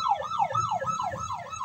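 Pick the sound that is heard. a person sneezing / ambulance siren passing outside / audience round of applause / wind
ambulance siren passing outside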